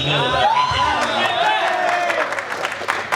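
An audience at a press event claps and cheers in a loud burst with some whoops, fading slightly while a voice speaks over the crowd noise.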